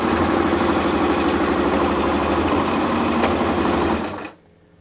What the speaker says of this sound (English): We're gonna do a straight stitch, see how well it does.